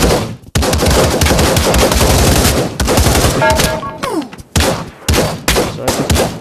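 AK rifle firing in the VR shooter game Pavlov, long loud bursts of rapid automatic fire close up, broken by short pauses, a brief mechanical rattle and more bursts.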